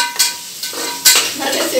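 Ginger garlic paste hits a hot pan in a home kitchen, giving short sizzling bursts with stirring and a spoon scraping the pan, close and moderately loud.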